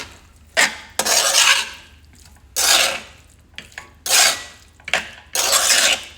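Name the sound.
mixing coriander into potatoes in a pan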